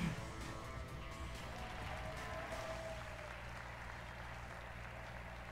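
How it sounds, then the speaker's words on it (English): Applause from a game show studio audience in a video game, a steady wash of clapping that holds evenly for several seconds without any voices. "Why are they clapping for that?"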